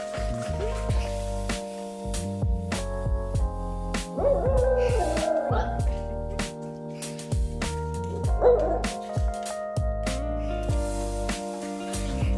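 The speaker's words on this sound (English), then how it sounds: "Occasionally, she'd make funny sounds we believe to be a howl or a bark." A pet dog makes a string of short yips and barks with a couple of longer wavering howl-like cries, fairly close, over a steady tonal background with no talking.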